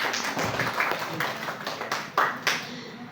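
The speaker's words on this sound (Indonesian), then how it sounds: "tepuk tangan semuanya" An audience at a school event claps in a thin, uneven patter of separate hand claps, moderately loud, with a few sharper claps standing out as the clapping dies away.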